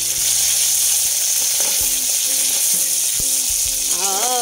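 Curry leaves hit hot oil with water still on them, frying and spattering in a steady loud hiss with crackles and pops close by.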